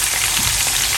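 Salmon fillet frying in a hot pan, a loud, steady, dense sizzle with no break and no voices.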